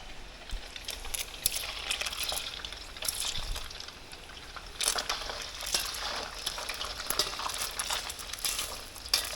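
Steady sizzling and crackling of crab sticks deep frying in hot oil in a stainless steel pan, with bright popping spatters throughout and no talking.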